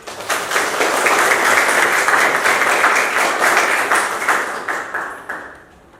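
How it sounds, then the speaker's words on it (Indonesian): Schoolchildren in an Indonesian classroom clap together as a class agreement is approved, a loud dense burst of hand claps lasting several seconds before fading out near the end. "Tepuk tangan."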